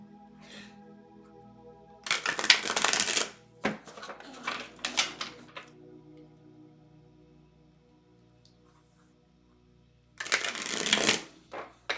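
Tarot cards shuffled by hand in two close, crisp bursts of riffling flutter, separated by quieter handling taps and a soft room hum.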